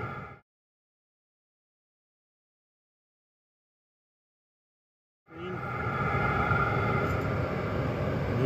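A diesel heater running with an unmuffled exhaust: near silence at first, then a loud, steady, rushing roar starts abruptly and holds close by with no voices.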